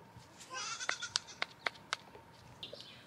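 Goats on a farm bleat repeatedly, a run of short, sharp calls close to the microphone in quick succession, followed by a couple of softer, higher bleats, with no talking.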